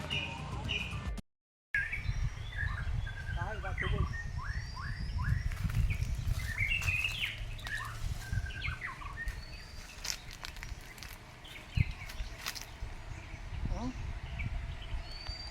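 A songbird sings outdoors near a riverside village in Rajapur, pouring out repeated bright chirps and warbling phrases at moderate distance while people talk nearby over rustling background noise.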